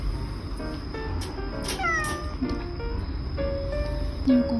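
A stray cat meows several times in short, rising calls, up close outdoors over a steady background hiss.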